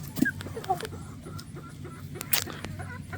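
American Bresse chickens cluck in a scattered series of short calls, some close and some farther off, over a low background of farmyard noise.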